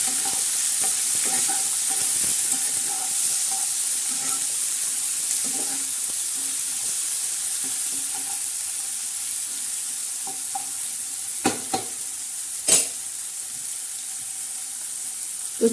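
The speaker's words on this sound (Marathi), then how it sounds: "आता मैत्रिणी छान असं परतून घ्यायचं." Tomatoes and two or three green chillies sauté in hot oil for shev bhaji, giving a steady sizzle for the whole stretch, broken by occasional sharp clinks as a spoon stirs the pan.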